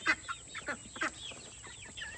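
Several chickens cluck in short, irregular bursts, fairly close, with no talk over them.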